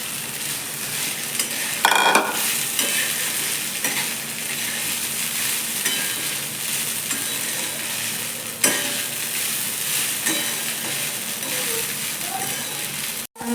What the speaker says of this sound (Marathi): यात आपण टाकूया हे झाकून ठेवलेले चांगले फुललेले आहेत पोहे